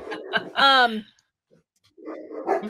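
Dogs bark loudly and whine close by, a strained yelping burst then a pause, with talk from a woman before and after during a voice-over actor's online interview.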